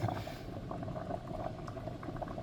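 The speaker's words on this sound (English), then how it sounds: "I get it to the point where it's just gonna start boiling over" A pot of rice on the stove at a rolling boil, right on the verge of boiling over, gives a dense, steady bubbling and seething that carries on evenly throughout, close and fairly loud.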